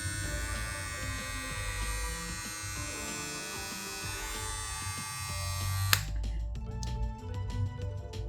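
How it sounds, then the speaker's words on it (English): A Stylecraft Saber hair clipper runs up close with a steady, quiet electric buzz and faint hum; near the end a sharp click is followed by a few lighter ticks over the continuing motor. "That's the quietest clipper which I've already seen."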